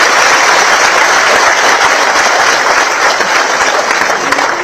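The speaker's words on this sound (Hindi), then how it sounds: "जोरदार तालियां बजाए इस बात के।" Loud, sustained applause from a large audience at a state-level cooperative conference, steady dense clapping filling the whole stretch without letup.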